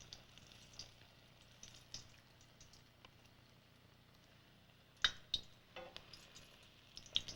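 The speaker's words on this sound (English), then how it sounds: "You could just hear probably- that sizzling" Food frying in hot oil during home cooking, a soft steady sizzle with scattered crackles and pops, quiet and close, growing busier toward the end.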